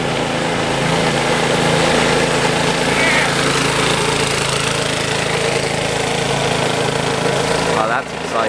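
An old go-kart engine runs steadily and loudly close by at idle, a continuous buzzing drone through the whole stretch that dips briefly near the end, with people talking over it.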